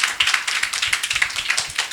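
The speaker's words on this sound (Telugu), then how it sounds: "క్లాప్స్ కొట్టండి." An audience at a Sunday school Bible quiz during a youth camp breaks into brisk, dense clapping for a right answer, a loud burst of many hands lasting a couple of seconds.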